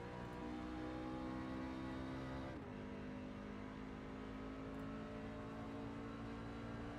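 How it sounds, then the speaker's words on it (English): Pickup truck racing in iRacing at WWT Raceway, with a loud, steady engine drone and a brief dip as a gear shifts partway through, then the engine note climbs again at full throttle. "You hear Cody Moore shifting right there."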